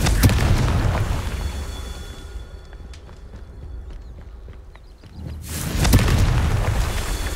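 A fiery Confringo spell in Hogwarts Legacy bursts loudly near the start, fades into a quieter stretch with light footsteps and small clicks, then a second blast swells and rumbles on.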